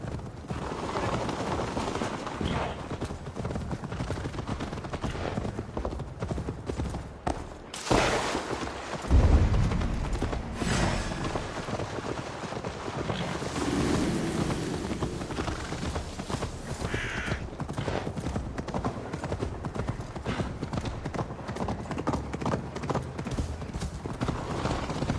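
Rapid, rhythmic hoofbeats of a galloping horse drive steadily throughout, with crows cawing and a dull boom midway, all loud and close, in the video game Assassin's Creed Valhalla.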